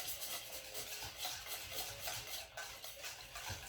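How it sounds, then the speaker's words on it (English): A whisk stirring evaporated milk in a bowl for baked pumpkin pudding, giving a quiet, steady scraping and swishing rhythm with no talk. "You whisk this around."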